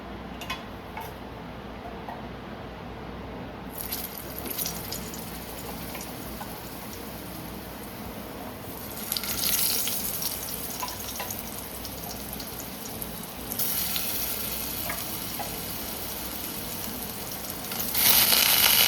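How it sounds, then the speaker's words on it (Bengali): Potatoes dropped into hot oil fry with a rain-like crackling sizzle that swells in bursts as more pieces go in, growing louder and brighter toward the end, with no speech. "তেল কিন্তু ভালোই গরম হয়ে গেছে, তো ফার্স্টে আলুটা দিয়ে দিচ্ছি এর মধ্যে।"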